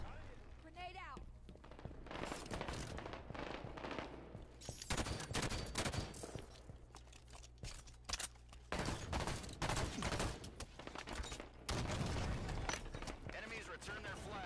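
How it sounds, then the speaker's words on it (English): Halo 5 multiplayer firefight with a grenade thrown, dense bursts of gunfire and explosive blasts packed together, loud and continuous, with a player's voice briefly talking over the din. "Grenade out."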